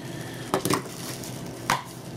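Knife cutting into sticky DVD packaging, giving a few short, close scraping slices, two quick ones together and one more after a pause, against a quiet room.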